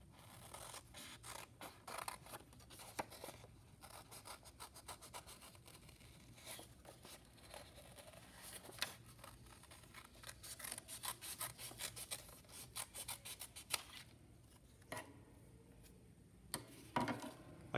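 Scissors snip through paper while cutting out a craft shape, a close, quiet run of crisp irregular snips and rustles, with short pauses as the paper is turned.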